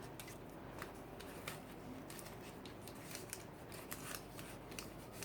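Scissors snip through paper for a mini traveler's notebook in quick, soft, irregular cuts, close but faint, with no voices.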